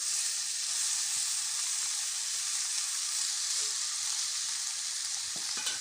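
Chopped ash gourd fries in hot oil with bay leaves, dried red chillies, five-spice and fried ginger paste, giving a loud, steady sizzle with a few faint scrapes of stirring near the end.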